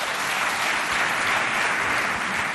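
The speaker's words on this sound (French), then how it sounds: "Applaudissez pour ça, s'il vous plaît." Sustained audience applause from a school quiz competition crowd, dense and steady throughout, loud and close with no gaps or talking over it.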